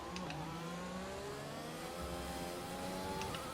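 An F1 car in the F1 2020 video game on a soaked Chinese Grand Prix circuit, a steady whining engine drone with shifting tones, faint and continuous as it heads into the pit lane.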